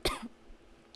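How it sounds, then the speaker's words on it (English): A single short, sharp cough at the start, close and loud, followed by quiet and a faint second sound at the end. "I'm getting a cough."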